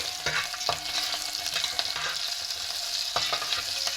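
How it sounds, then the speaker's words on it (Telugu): Whole spices (peppercorns, cloves, cardamom) with ginger and cumin sizzling in hot oil in a pan, a steady crackling fry broken by a few sharp stirring clinks. "మిరియాలు, లవంగాలు, ఇలాచీ, ఇంకా అల్లం, జీలకర్ర వేసుకుంటామండి. అది ఫ్రై అవుతుంది."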